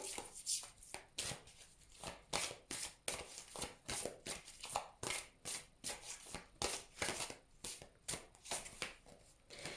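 Tarot cards are shuffled over and over in a steady run of crisp riffling bursts, close and fairly quiet, with no talking.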